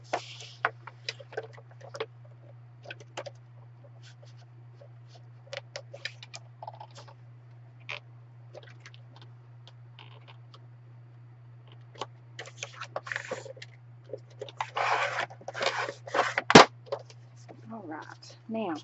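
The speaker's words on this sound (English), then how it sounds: "Now we're going to cut the side." A blade slicing down the side of a paper bag during a paper bag album craft, heard as faint, scattered scratchy ticks that thicken into a louder rasping cut near the end, over a steady low hum.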